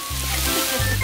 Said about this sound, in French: Ça grésille si bien.